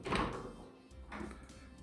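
Doors inside a house open with two muffled thumps and a soft rattle, close by and fairly quiet, with no voices.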